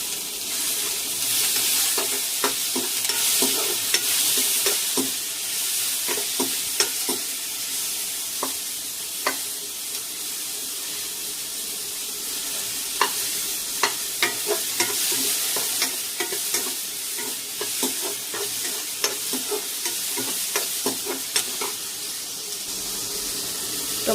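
Cabbage poriyal with tomato, green chilli and garlic sizzles steadily in a pan while a spoon stirs and scrapes in repeated clicks and knocks throughout, with no talking.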